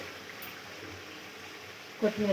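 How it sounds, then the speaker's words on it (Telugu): Chicken simmering in gravy after a little water is added, a low, steady bubbling hiss close by, with a voice cutting in briefly at the end. "చూడండి చికెన్ ఎలా ఫ్రై అయిపోయిందో. కొద్దిగా వాటర్ వేసుకున్నానండి నేను."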